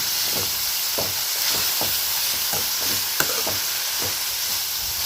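Shredded cabbage sautéing in a pan makes a loud, constant hissing sizzle, with a spatula turning it in soft, regular strokes roughly every half second.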